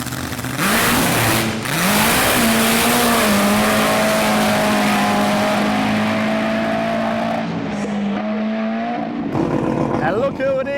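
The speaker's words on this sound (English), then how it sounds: "Mr. Michael Buckley in the wildest rotary in the West." A rotary-engined race car at a Western Nationals speedway event revs and accelerates loudly and close by, with a steady sustained engine tone shifting in pitch and people's voices mixed in.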